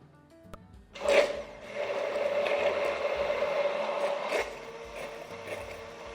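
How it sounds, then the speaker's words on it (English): An electric mixer whirs steadily while emulsifying milk and oil into mayonnaise, switching on abruptly with a loud burst and then running as a continuous motor drone with a sloshing texture, close and alone. "And I go with the mixer."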